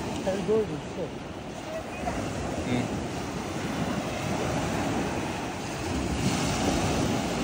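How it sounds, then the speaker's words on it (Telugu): Surf rolls onto the shore at Dhanushkodi beach in a constant wash, with gusty wind buffeting the microphone and people talking faintly underneath. "ఇదైతే ధనుష్కోటి బీచ్, చాలా బాగుంది."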